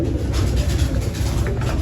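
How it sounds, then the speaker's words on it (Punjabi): A pigeon hen coos close by, a brief low murmuring call over loud, rough background noise. "ਆਹ ਕਬੂਤਰੀ ਆ"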